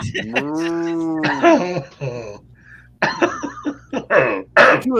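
A pull-string talking toy cow lets out a long, wavering moo, followed by voices talking over each other at close range.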